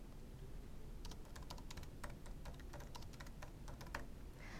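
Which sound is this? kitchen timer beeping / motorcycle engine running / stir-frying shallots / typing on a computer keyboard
typing on a computer keyboard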